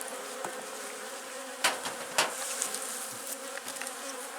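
Steady buzzing of many honeybees close by at a weak hive infested with wax moths, continuous droning with a few sharper knocks and brief louder passes.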